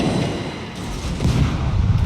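Warship guns firing shells in the World of Warships naval game, a series of heavy booming blasts rumbling continuously with rolling low-end thunder and no clear pauses between them.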